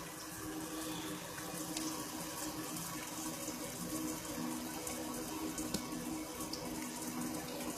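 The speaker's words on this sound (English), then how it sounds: "We're running it on the cold water." Cold tap water pours steadily over cooked chow mein noodles in a kitchen sink, a constant, fairly loud splashing rush lasting throughout without pause, with no talk over it.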